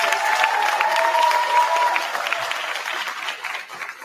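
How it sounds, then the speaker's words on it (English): Audience applause with some cheering for a former mayor at a presidential speaking event, a dense, steady clapping from a large crowd that holds through the whole stretch and slowly thins toward the end. "Give him a round of applause."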